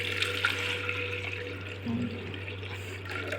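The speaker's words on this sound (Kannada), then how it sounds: "ಕುದಿಯಲು ನೀರನ್ನು ಹಾಕಿ." Water running and splashing into a pot for boiling washed lentils for dal sambar, fairly quiet over a low steady hum, with a brief gurgle near the middle.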